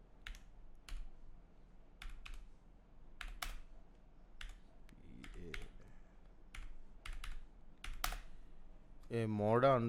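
Typing a prompt on a computer keyboard into a Figma AI plugin, scattered bursts of quiet key clicks at close range, with a brief voice near the end.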